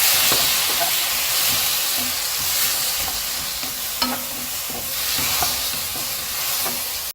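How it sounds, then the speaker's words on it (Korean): Radish stir-frying in a pot with a splash of water, a steady close sizzle and hiss with scattered light scrapes and taps of a utensil stirring throughout, no talking. "물을 먼저 넣고 좀 볶아주세요"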